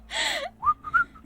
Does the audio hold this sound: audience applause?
no